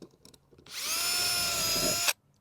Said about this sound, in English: I drill a hole.